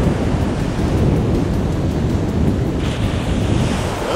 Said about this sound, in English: The ocean is angry today.